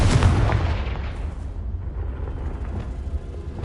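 A Confringo blasting curse in a Harry Potter video game explodes as a heavy, close boom at the start, then rumbles and decays slowly into a fading tail, with no talking.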